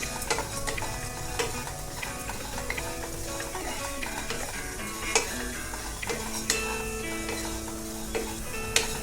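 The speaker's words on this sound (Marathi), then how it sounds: "आता याच कढईमध्ये मी पंपकिन सीड्स आणि सनफ्लॉवर सीड्स छान भाजून घेणार आहे." Pumpkin and sunflower seeds roast in a wok over low heat, a soft continuous sizzle with scattered light clicks and scraping stirs, moderately quiet and close, with no voices.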